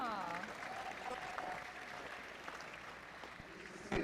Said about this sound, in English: Mr. State, give this family here a round of applause.